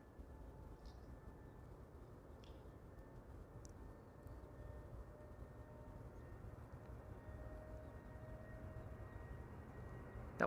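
A Delta Airlines airliner rolls for takeoff at Amsterdam Schiphol on a sunny morning, heard as a steady, distant low engine rumble that swells slightly over the clip.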